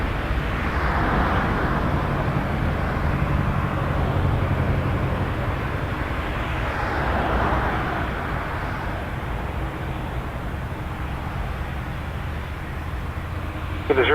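Air Canada passenger jet taking off from runway 06 left at Toronto Pearson Airport, a steady broad engine roar that holds strong throughout, rising and falling slightly as it rolls, with faint talk underneath.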